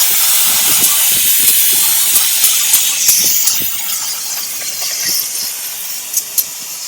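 Brake cleaner sprayed onto the rear brakes of a 2013 Jeep Wrangler Sport, a loud close continuous hiss with faint clicks and knocks underneath, no talking.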